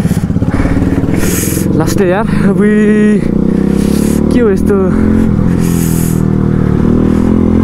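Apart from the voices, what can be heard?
motorcycle engine running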